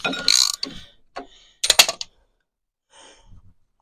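Ratcheting clicks and metallic scrapes while a bolt is loosened on an espresso machine under repair, in two brief bursts with a faint creak after a pause.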